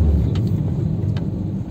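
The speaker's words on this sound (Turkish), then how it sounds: "Aracın motor sesini tamamen alıyor." A car engine gives a low, steady rumble inside the vehicle, picked up through a Lenovo HE05 headset microphone, with no one talking.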